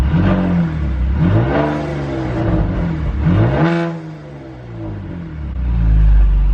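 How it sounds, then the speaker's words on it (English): A Saab 9-3 engine with an open air intake revs up and back down several times, loud and close, with a throaty rising and falling roar and no talking. "you could probably hear it there with the open air intake, even on the revs"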